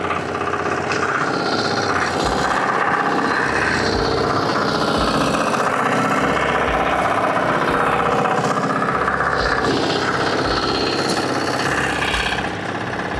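A mini tractor FTI2010DE in first gear and four-wheel drive climbs a slope, its engine droning loud and steady throughout with a rough, vibrating mechanical clatter and no talk.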